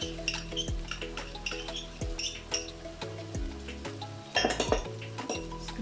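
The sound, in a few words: stirring tomato paste in a cooking pot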